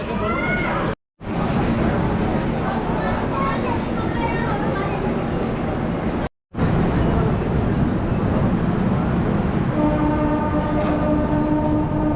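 The Rajdhani Express stands at Muzaffarpur station amid a steady rumble of rail noise, broken by brief dropouts, with a sustained train horn sounding toward the end.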